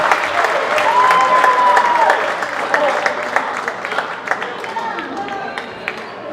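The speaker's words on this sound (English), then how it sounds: "Crowd is loving it." Basketball crowd in a high school gym cheering and applauding loudly during a boys varsity game, a sustained roar of claps and shouts with a whistle-like tone, tapering slightly toward the end.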